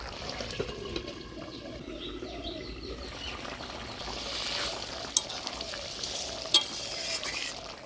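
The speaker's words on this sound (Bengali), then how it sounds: "মাছগুলো দিয়ে দিলাম এবারে একটি ঢাকা দিয়ে জাল দিয়ে নিলাম" Koi fish frying in oil in a covered pan give off a steady, soft, muffled sizzle that goes on without a break. A few light clinks and taps sound faintly over it.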